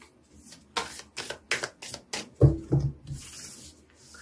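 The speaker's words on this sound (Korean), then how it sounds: "제가 카드를 한번 뽑아보도록 하겠습니다" Tarot cards are shuffled and drawn by hand: a series of short, crisp riffling bursts in an even rhythm, then a few softer slides and taps as cards are pulled, close and quiet, with no talk.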